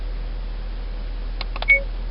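An AUTO-VOX T6000 dash cam gives a few brief electronic beeps near the end, short tonal blips over a steady low hum, close and modest in level.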